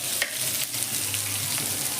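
Chopped pointed gourd fries with black cumin and turmeric in a little oil, a short, constant crackling sizzle up close with a couple of quick stirring scrapes.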